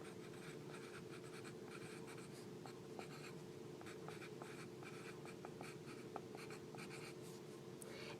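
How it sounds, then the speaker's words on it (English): A pencil scratches and taps on paper while working integer sign problems, a quiet, close, irregular run of short strokes over a steady background hum, with no speech. "I'm going to pick up my regular pencil again."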